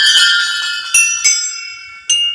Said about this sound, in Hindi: हम सारी घंटियां बजाते हुए चलेंगे